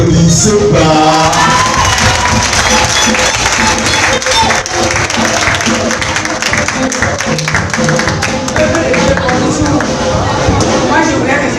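A church congregation applauds and cheers, loud and sustained throughout, with dense clapping mixed with shouts and raised voices.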